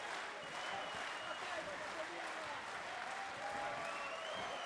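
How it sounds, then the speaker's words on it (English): A boxing crowd of Ervinas Fokinas vs. Alessio Leoni fight fans roars in a dense, steady swell of cheering and applause, a fairly faint wash of noise with a few rising voices under it. "crowd coming alive here"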